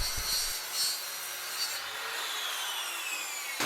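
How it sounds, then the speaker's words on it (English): A hand tool trims the ends of wooden mailbox parts with a steady rasping, rubbing stroke that runs throughout, preceded by a couple of brief knocks at the start. "So we'll trim up the ends on the two sides and clean them up."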